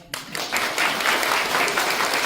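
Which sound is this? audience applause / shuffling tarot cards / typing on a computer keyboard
audience applause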